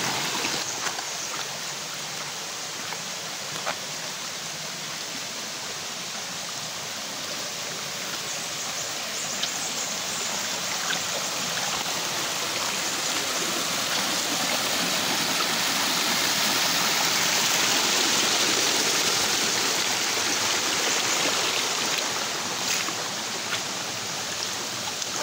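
A waterfall and flowing stream at newly discovered falls in Barangay Assumption, Koronadal City, give a steady, loud, close rush of water that holds constant for the whole stretch, with no voices.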